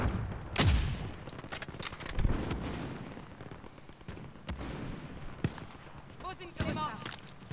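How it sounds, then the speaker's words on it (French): In a Call of Duty Modern Warfare match, a flashbang grenade lands among sharp, loud in-game gunfire bursts and booming impacts, with a player's voice heard amid the chaotic combat noise. "Grenade flash lancée"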